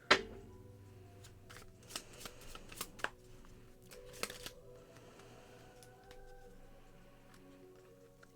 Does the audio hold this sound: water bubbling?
no